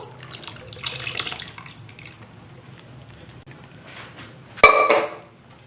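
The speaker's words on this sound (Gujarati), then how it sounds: "અડધો કપ કુકરની અંદર પાણી ઉમેરીને જે બધી ચોટેલી દાળ છે તે બધી લઈ લઈશું" Water poured into a pressure cooker and stuck dal scraped from its sides during dal tadka cooking, a soft wash of pouring and metal contact building to a louder clatter of scraping near the end.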